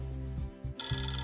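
A mobile phone rings with an incoming call near a Mahindra EarthMaster backhoe loader, its melodic ringtone tones repeating steadily and clearly with no voices over it.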